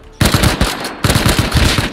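Gunfire in the survival video game Rust, with two loud, close bursts of rapid automatic shots, each lasting just under a second, separated by a short pause and without talk.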